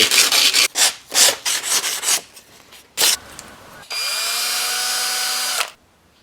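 A knife frame lock part is worked with a power tool to clean up its surface, first in scratchy rubbing bursts, then a steady whining run of about two seconds, close and loud with no talk.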